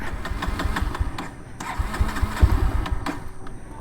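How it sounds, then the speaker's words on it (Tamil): A Bajaj Pulsar 150 motorcycle with its fuel drained cranks repeatedly on the electric self-starter, a whirring, grinding churn that rises and falls in several bursts without the engine catching. "ரொம்ப நேரமாக செல்ஃப் அடிச்சுட்டு இருக்கோம், வண்டி ஸ்டார்ட் ஆகலை."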